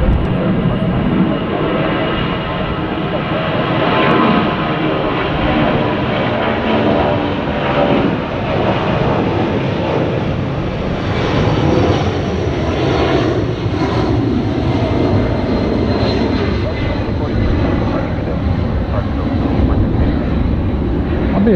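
A Boeing 757 jet airliner on its takeoff roll at an airport, a loud, continuous roaring engine rumble that holds steady and close throughout.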